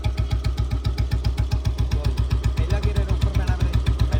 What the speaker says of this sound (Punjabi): ਇਹ ਆਪਣਾ ਬੁਲਟ ਸਟਾਰਟ ਹੋ ਚੁੱਕਿਆ ਜੀ